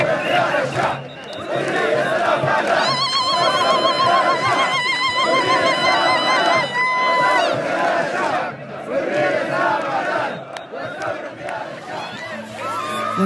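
A large crowd at a daily protest sit-in across from military headquarters in Sudan, festive and carnival-like, with loud chanting, cheering, whistles and shouting voices blending continuously close by.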